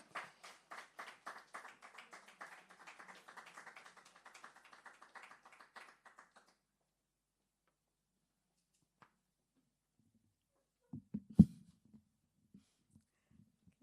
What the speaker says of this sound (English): you have to give her a big round of applause as she comes forward